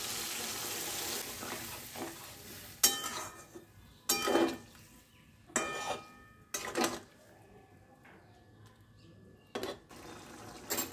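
Onion, potato, tomato, chili and spices are sautéed in a pan, with a low, constant sizzle broken by several loud bursts of scraping and stirring against the pan at irregular intervals.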